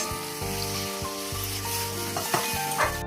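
Spiced paste with eggs and potatoes sizzles in a pan, a steady close crackle with scraping stirs and a background hum that shifts in pitch, no one speaking.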